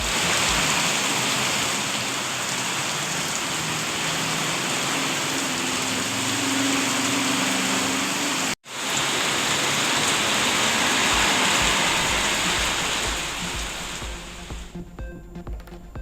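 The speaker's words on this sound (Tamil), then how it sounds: "தமிழகத்தின் பல்வேறு மாவட்டங்களில் திடீரென பெய்த கோடை மழை" A sudden summer downpour in Tamil Nadu, a steady wash of rain noise held loud and even throughout, broken by one brief cut near the middle and thinning slightly at the very end.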